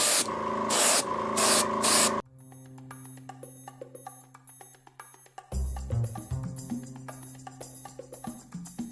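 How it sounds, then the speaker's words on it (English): Short hissing bursts of airbrushed pigment fixer at first, then a steady faint airbrush hum with small ticks and clicks, no talking. "we got our pigment fixer and our airbrush, and we are just going to spray that on here"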